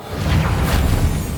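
A Reparo repair spell is cast in the Hogwarts Legacy game, a short, dense magical whoosh with a low rumbling body that stays loud for just over a second.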